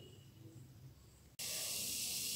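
Urad dal and chana dal drop into two teaspoons of hot oil over a low flame for capsicum chutney. A quiet room suddenly breaks into a loud, steady sizzle that carries on to the end.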